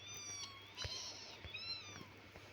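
A cat in a computer game meows several times in thin, high, drawn-out cries, fairly quiet over a low steady hum, with no talking.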